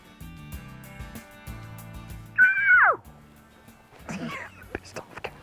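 A loud, wavering nasal call from an agitated cow elk rises and drops once, followed by fainter rough calls and clicks, with quiet background noise throughout, in northern Idaho.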